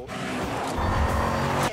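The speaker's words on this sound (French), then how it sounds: "Ce vrombissement féroce, c'est presque une marque de fabrique pour cette voiture." A Ford Mustang's American V8 engine roars steadily up close, a deep, powerful rumble that holds for nearly two seconds before cutting off abruptly.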